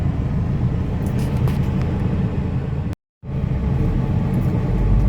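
A Mercedes 300CD on a spirited drive gives a steady low engine rumble and road noise heard from inside the cabin, loud and unbroken apart from one brief dropout.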